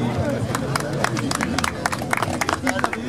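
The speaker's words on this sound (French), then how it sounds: "On peut applaudir Paul aussi." A crowd at a motorcycle event applauds a rider on an MV Agusta F4, scattered clapping and hubbub beneath a loud announcer speaking over a PA.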